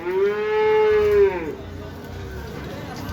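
Cattle at a busy village livestock market give one long, loud moo lasting over a second, then fade into a softer trailing call over a low crowd murmur.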